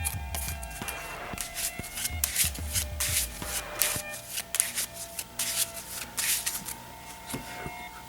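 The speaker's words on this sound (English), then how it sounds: "I'll give it a few shuffles." A deck of Marvel Champions game cards being shuffled by hand, with repeated riffling and soft rubbing strokes close up, steady through the whole stretch, no talk.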